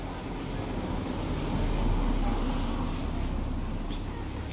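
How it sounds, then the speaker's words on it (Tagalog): Strong typhoon wind blows outdoors without rain in a steady, loud, broadband roar that buffets and rumbles continuously with no break. "Walang ulan pero malakas pa rin ang hangin"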